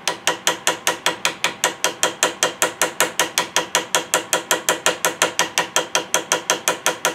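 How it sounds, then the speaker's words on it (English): Steel hammer peen striking the edge of a rivet on a Kibler Woodsrunner flintlock muzzleloader kit, about thirty quick, evenly spaced metallic taps in a steady rhythm, close and clear with no talking. "I like to bounce around the edge of my rivet with that peen."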